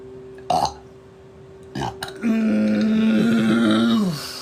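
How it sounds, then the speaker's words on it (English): Someone burps several times: two short burps early, then a long, drawn-out, low-pitched burp lasting about two seconds, loud and close. "it's going to be a lot of burping"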